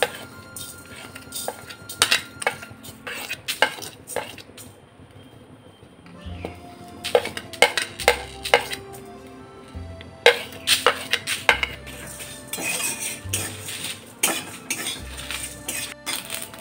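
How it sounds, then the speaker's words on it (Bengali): Whole spices, including cumin, dried chillies and bay leaves, are dry roasted in a pan, with a spoon repeatedly scraping and clinking against the metal in quiet, irregular bursts. "গোলমরিচ বাদ দিয়ে সমস্ত উপকরণ ড্রাই রোস্ট করে নেব।"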